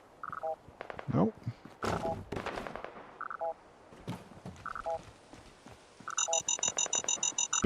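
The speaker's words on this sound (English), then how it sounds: "Beeping intensifies?" Video game alarm beeping in repeated short electronic tones, alternating pitches in a pattern that grows denser toward the end, mixed with croaking game sounds and bursts of effects.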